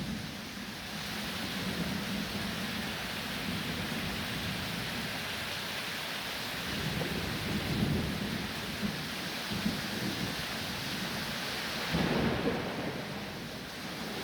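Heavy thunderstorm over Narayanganj, Bangladesh, with steady loud rain and low rolling thunder swelling several times across the recording, no voices.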